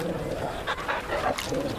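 A large wolf in the video game Final Fantasy XVI gives short, faint dog-like whimpers and yips, heard briefly and quietly in the game audio.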